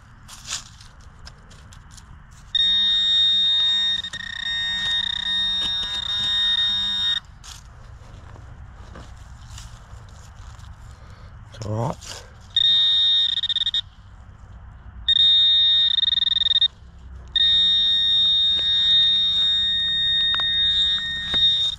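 Nokta Legend metal detector sounding a steady high-pitched tone during a night hunt, in bursts of a few seconds separated by short gaps and quieter background noise.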